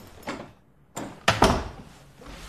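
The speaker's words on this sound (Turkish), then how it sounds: "Kapıyı kapat bari." A door is pulled shut in a quiet room, giving a couple of sharp knocks and a solid thud followed by a brief rattle, fairly close and loud with no talking.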